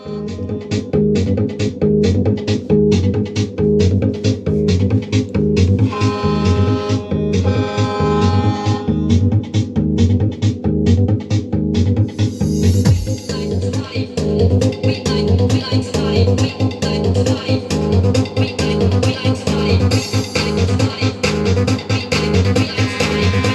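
Music with a steady beat plays loudly through a speaker system, continuous and rhythmic, with no talking over it.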